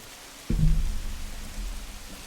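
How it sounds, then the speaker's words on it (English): Steady rain falls in the video game Minecraft with a soft, even hiss, joined halfway through by a low rumbling swell that lingers beneath the patter. "It is raining out."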